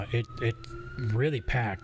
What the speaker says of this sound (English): And by the way, sorry for that siren.